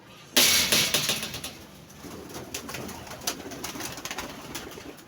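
Pigeons cooing close by, soft repeated coos over a sudden burst of wing flapping at the start, then ongoing rustling and chirpy bird activity with no talking.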